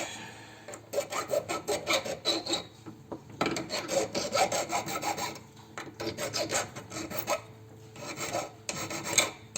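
A metal file rasps a chamfer along the edge of a DIY awning channel bracket in repeated back-and-forth strokes, several bursts with short pauses between, close and fairly loud with no voices.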